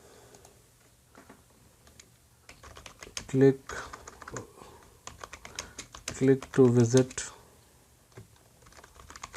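Keys clatter on a computer keyboard in short bursts during an HTML coding lesson, someone speaking Hindi-Urdu between and over the typing.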